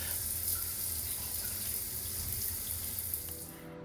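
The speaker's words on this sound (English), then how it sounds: "so I decided to take a shower." Shower water runs steadily in the shower room of an airport lounge, a constant close hiss of spray that eases off slightly near the end, with no voices.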